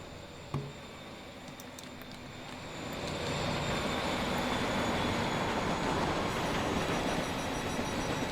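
A Transport Fever 2 train running through an overgrown cutting in Bretagne, a steady rumbling roar that swells after a brief clank and holds loud and continuous with a faint pattering texture.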